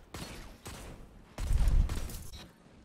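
Gunfire from a weapon in the online shooter Destiny 2, heard as several sharp bursts spread across a few seconds, with the loudest, heaviest volley near the middle, fairly quiet overall.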